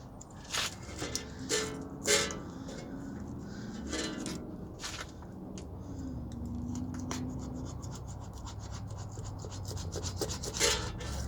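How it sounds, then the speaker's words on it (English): Abrasive grill cleaner rubbed and scraped across the metal surface of a Mustang engine part during a V6 4.2/3.8 swap, giving repeated close rasping swipes with a few sharper scratches. "Good old grill cleaner has that whole surface cleaned up in about 3 swipes"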